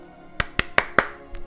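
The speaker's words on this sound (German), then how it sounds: "Sie klatschte in die Hände, um unsere Aufmerksamkeit auf sich zu ziehen." Four sharp hand claps in quick, even succession, close and dry, followed by a faint softer sound.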